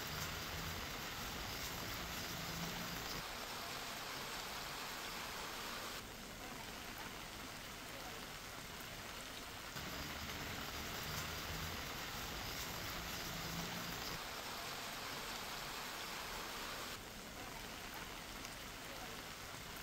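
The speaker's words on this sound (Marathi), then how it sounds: "काल रात्रभर अति मुसळधार पाऊस जो काही मुंबई आणि आसपास सुरू आहे" Heavy monsoon rain pouring over flooded streets in Vasai-Virar near Mumbai, a steady broadband hiss that shifts slightly in level but never lets up.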